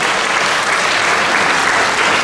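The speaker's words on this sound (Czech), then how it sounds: "Zatleskejte všem dívkám" Audience applause at a Miss Roma 2024 beauty pageant, a dense, steady round of clapping from a crowd filling the whole stretch without a break.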